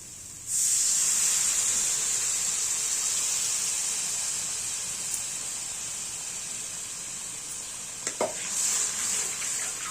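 Water hits hot cooked spice paste for a fish curry, bursting into a loud hiss and sizzle that slowly settles into a steady steaming fizz, with a few small clinks near the end.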